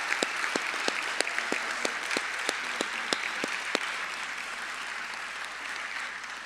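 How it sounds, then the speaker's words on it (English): Applause from a school graduation audience for the principal, staff and teachers, a dense, steady wash of many hands clapping at a distance, with a few sharper claps standing out early, continuing without talk. "let's give a big round of applause to Principal Mike Calvanese and his staff and the teachers"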